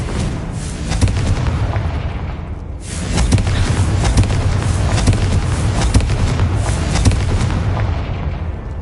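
A Confringo blasting spell erupts in a witch adventure game with loud, sustained explosive rumbling and crackle, a sharp cut near three seconds, then continued booming close up.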